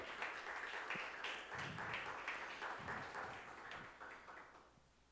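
A church congregation claps together steadily for several seconds, a dense, fairly distant wash of applause that slowly fades.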